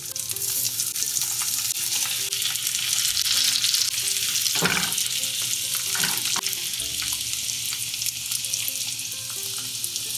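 King trumpet mushroom scallops fry in a pan with a continuous bright sizzle, broken by a few short scraping and placement knocks near the middle.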